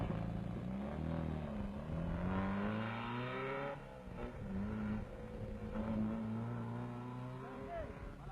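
A Standard 10 rally car drives on the 1959 Alpine Rally, its engine rising and falling through several revving pitch sweeps, with a narrator's voice running over it.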